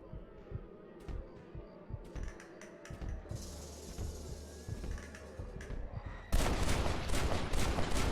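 Gunfire in the Western video game Red Dead Redemption, a run of sharp shots and clicks scattered over the first seconds, then a dense burst of louder, rapid fire near the end, with a faint voice in the background.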